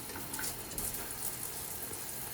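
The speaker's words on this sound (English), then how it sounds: "Cool thing about the shower is when it's on now." A dorm shower runs steadily in a student apartment bathroom, a constant close hiss of spraying water with no voices.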